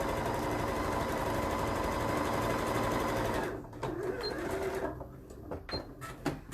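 A sewing machine runs steadily as it stitches a small quarter-inch seam on a padded zipped bag. The whirring is close and continuous, then stops, and light handling clicks and rustles follow.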